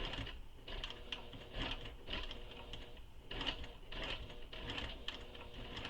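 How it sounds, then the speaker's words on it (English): Home sewing machine stitching around the curved edge of a fabric quiver sling, a run of quick mechanical whirring bursts separated by brief pauses as the presser foot is lifted and the fabric pivoted. "Presser foot up, pivot a little bit, take a stitch."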